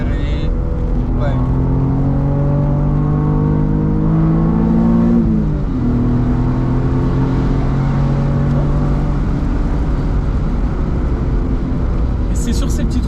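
Alfa Romeo Spider V6 3.0 24v (916 phase 2) accelerating along a winding road, its engine note climbing then dropping as gears change, steady and close under ongoing conversation.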